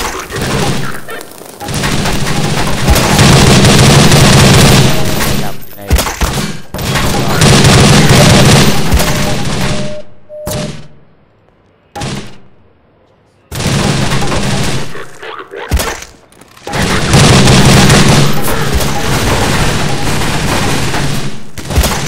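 Half-Life 2 gameplay with loud, sustained bursts of gunfire and explosion booms, broken by a short near-silent gap around the middle before the heavy firing resumes.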